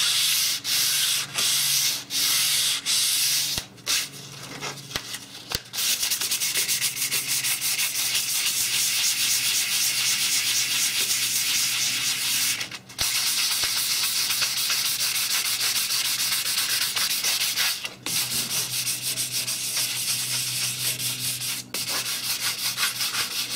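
Steady, continuous scrubbing as steel wool rubs rust off the cast-iron table and rail slot of a table saw, close and loud throughout, broken only by a few short pauses, with no voices.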